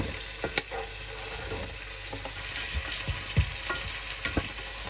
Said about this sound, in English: going to saute lamb for 5 minutes on each side